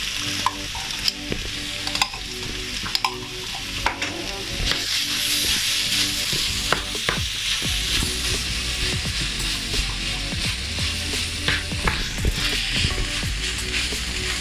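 Beef mince with a whole can of tomato puree sizzles loudly in a frying pan while a utensil stirs and scrapes through it, a steady crackling frying noise with frequent knocks, and no talking.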